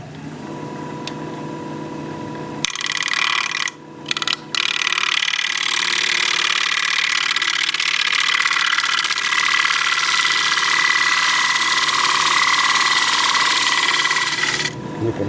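Thin alder live-edge bowl being scraped on a wood lathe, a steady loud whirring hum with continuous bright scraping noise, briefly interrupted twice near the start and running unbroken for about ten seconds.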